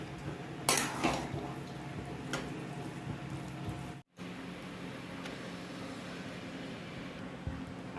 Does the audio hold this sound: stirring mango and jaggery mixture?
yes